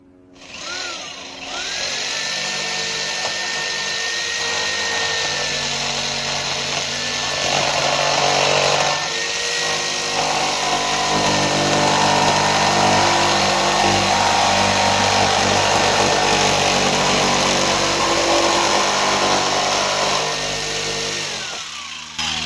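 Power tool cutting through a wall to fit a window air conditioner, a loud, sustained whining motor with grinding cutting noise that rises in pitch and strain, running continuously for about twenty seconds without talk.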